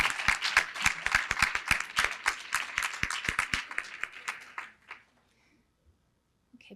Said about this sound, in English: Graduates, please give your friends and family a big round of applause for their love and support.